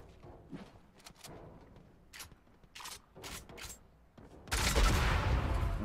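A gun fires in Fortnite Mobile gameplay. Scattered bursts of shots crack out unevenly, then a loud, dense volley of fire runs through to the end.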